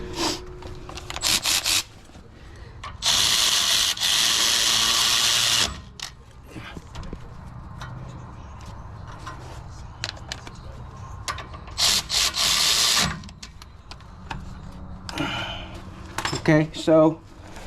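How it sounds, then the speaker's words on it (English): A ratchet tightening caliper bolts on the rear brake of a 2012-2016 Ford F-450 cab chassis, heard as bursts of rapid close clicking between quieter metallic handling and workshop noise. "Then we put our bolts in. I already have a ratchet set up."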